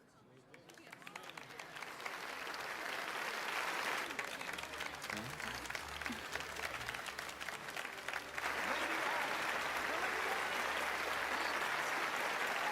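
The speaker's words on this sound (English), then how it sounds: "Oh, he's actually getting applause." Crowd applause rings out in a fantasy role-playing video game, a dense steady wash of clapping building and holding for several seconds, with a voice talking over it.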